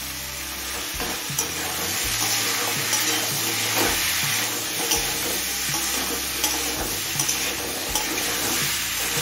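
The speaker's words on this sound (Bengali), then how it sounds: "এবার মিডিয়াম ফ্লেমে কুমড়োটা একটু ভাজা ভাজা করে নেব।" Pumpkin pieces with salt and turmeric fry over medium flame, a loud steady sizzle broken by repeated stirring scrapes in the pan, nobody speaking.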